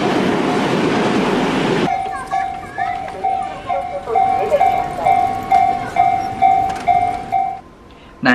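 A burst of loud train noise cuts off, then a railway crossing bell dings in a steady repeating rhythm, with a train horn near the end.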